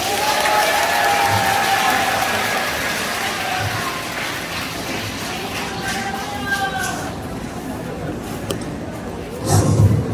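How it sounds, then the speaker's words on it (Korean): Audience applause at a church press conference welcoming a lawyer, sustained clapping filling the room and tapering off, with some crowd noise beneath. "박수로 모시겠습니다."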